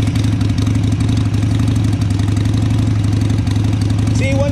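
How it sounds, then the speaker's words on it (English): A 2002 Harley-Davidson Sportster motorcycle engine idles steadily nearby with a loud, even, low rumbling pulse and no revving, running alone for a few seconds. "That's a nice sound of bike, bud."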